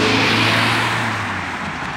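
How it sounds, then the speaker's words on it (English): Buses roll past close by on a city street, a loud, continuous roar of engines and tires that fills the whole moment and slowly eases off, with no voices. "these bloody buses are going past me."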